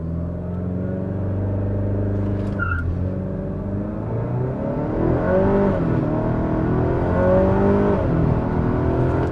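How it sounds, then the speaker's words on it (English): A Honda Accord launches in second gear with a bogging engine. A steady, droning engine note climbs slowly in pitch as it accelerates, loud and continuous throughout. "It seems like there's a bogging going on when I launch in second."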